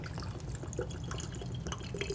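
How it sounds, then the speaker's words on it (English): Water poured into a mason jar packed with fly-tying dubbing material, a steady close trickle and dripping with a low continuous rumble beneath, no voices. "then you want to put water in it"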